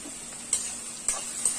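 Onion frying in oil in a kadhai, a soft steady sizzle with a few quick stirring scrapes, close and moderately quiet.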